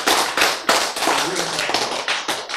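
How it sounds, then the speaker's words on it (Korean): An audience claps in a lecture hall after a prompt from the lecturer, a burst of loud, uneven hand claps repeating in waves through the moment. "박수!"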